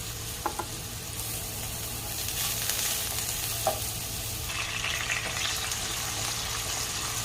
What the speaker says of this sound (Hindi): मैंने बैगन डाल दिया, इसे भी उसी तरह फ्राई कर लेंगे।